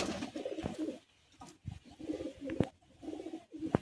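Pigeons coo in soft, throaty, rolling bursts at the Uluberia pigeon market, several close calls separated by brief pauses with faint rustling between them.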